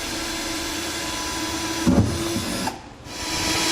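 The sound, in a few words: drilling holes for fifth wheel installation brackets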